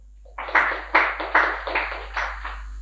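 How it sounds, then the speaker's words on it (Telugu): About seven loud claps, evenly spaced, for Bal Gangadhar Tilak during a meditation session, close and crisp with a steady hum underneath. "ఒకసారి ఆయన గట్టి క్లాప్ చేద్దాం"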